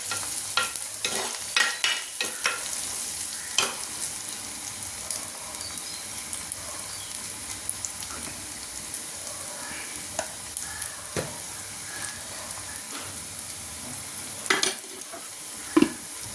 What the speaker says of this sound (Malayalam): മുളക് പൊടിയും മഞ്ഞൾപ്പൊടിയും ഒന്ന് നല്ലതുപോലെ ഒന്ന് മിക്സാക്കാം